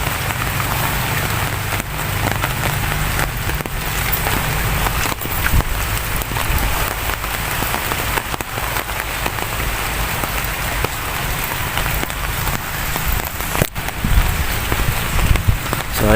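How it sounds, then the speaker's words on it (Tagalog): Heavy rain pours down without a break, a dense, loud hiss of drops drumming on surfaces nearby. "Grabe ulan dito mga idol"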